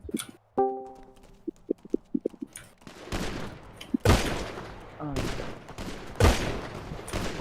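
Rapid bursts of gunfire from a GTA roleplay video game, several loud volleys and single shots cracking over game ambience, with scattered background talk.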